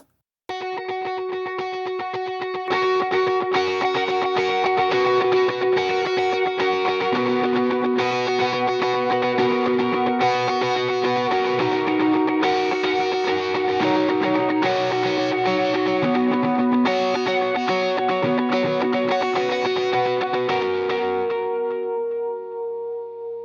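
Lead electric guitar recorded through a microphone preamp, a sustained melodic line with distortion and chorus over steady rhythm playing; loud and continuous before fading at the end, with no voices.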